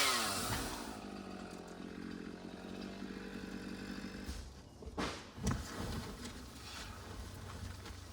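A chainsaw trimming a tree beside an old farmhouse: a faint, distant, steady droning buzz that dips, surges in a louder burst around the middle, then keeps running.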